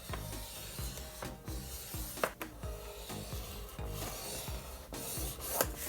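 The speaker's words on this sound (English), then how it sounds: "I'm going to score the paper from this corner straight up, straight to this point where the tab begins" Repeated scoring strokes on paper for a mini file folder kit, a steady dry rasping scrape with rhythmic pulls throughout, close and fairly loud with no talk.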